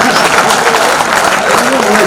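Audience applause at a poetry gathering (kavi sammelan) in Modi Nagar, steady clapping from a large crowd that stays fairly loud throughout.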